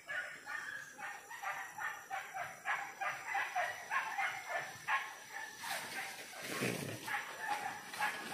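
Hunting dogs bark repeatedly during a wild boar hunt in an old overgrown field, a rhythmic chorus of steady barks from some distance with no pauses, growing busier toward the end.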